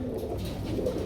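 A yellow-eyed Indian Giyasalli female pigeon coos close up, giving a brief, low, throaty rolling call with no voices over it.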